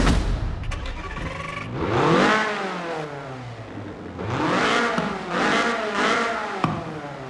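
A 1974 Toyota Corolla SR5 AWD drift car engine runs close by, revving up and down in several surging bursts with a rough, raspy exhaust tone.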